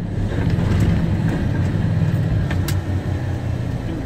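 Inside a truck with a Road Ranger constant mesh gearbox while downshifting, a loud continuous engine drone with rumbling low end and a brief dip as the gear change is made.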